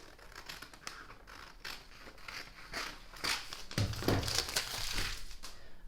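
Scissors cutting through a paper bodice pattern block, a close series of crisp crunching snips and paper crinkling that grows louder and denser toward the end.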